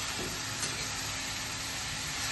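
Cabbage and prawns stirred together in a hot pan, a steady broad sizzle with faint scraping running throughout at a constant, close level, no voices.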